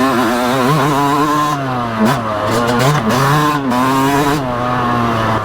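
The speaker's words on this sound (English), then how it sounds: "this two-stroke power, and this 250, you know, with that pull it has and the sound it makes when it starts pulling" Yamaha YZ250 two-stroke motorcycle engine pulling hard on a ride, a loud close buzzing drone that rises and falls in pitch through several throttle surges with no voices over it.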